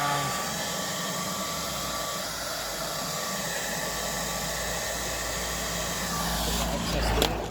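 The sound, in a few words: heat gun heating vinyl wrap on rear quarter panel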